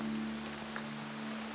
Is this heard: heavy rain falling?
yes